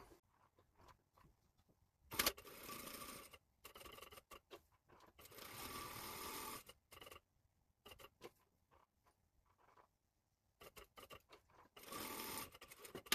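A sewing machine stitches a safari jacket in several separate bursts of steady, rapid running, pausing between runs, close and clear with no talk.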